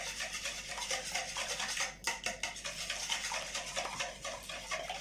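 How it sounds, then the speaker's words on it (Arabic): Eggs whisked by hand with a manual hand mixer in a bowl, a fast, steady rhythmic whirring and clicking close up, with a short knock partway through. "انا غنستعمل هاد الخلاط اليدوي"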